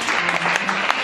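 Applause from a church congregation at a surprise birthday celebration for a pastor, a dense, steady wash of many hands clapping, close and even for a brief moment.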